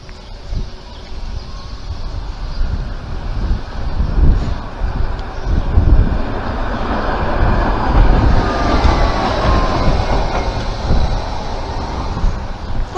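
A tram passes along a city street in Taganrog in summer, a loud, steady rumble of rolling wheels that swells and carries on under heavy wind noise on the microphone.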